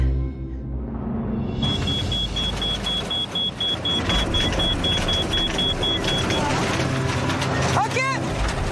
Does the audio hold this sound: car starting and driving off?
yes